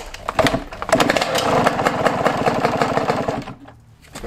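A Yamaha YZ125 two-stroke dirt bike engine idles close by with a rapid, buzzy putter and slight revs, being tuned for idle, then cuts down near the end.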